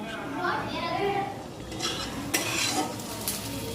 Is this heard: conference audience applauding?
no